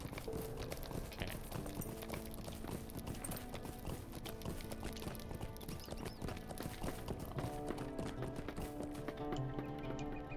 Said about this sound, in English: The horse sound effects